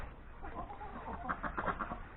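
Chickens and roosters cluck repeatedly nearby, a busy overlapping chorus of short clucks that grows a little louder toward the end.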